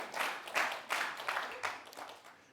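An audience at a talk on individualism and tribalism claps in a few rolling bursts that swell and fade over a couple of seconds, moderately loud with no voice over it.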